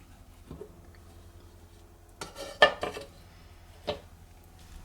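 A Pyrex glass baking tin set down and fitted inside a 20cm Primus camping pan gives a few sharp clinks and knocks of glass against metal, clustered together then one more, fairly close over a quiet background.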